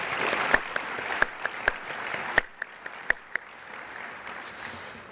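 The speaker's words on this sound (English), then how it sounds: "Let's give the Severna Park Orchestra another round of applause." An audience applauding after an orchestra performance, a dense wash of clapping with a few sharper claps standing out, gradually thinning toward the end.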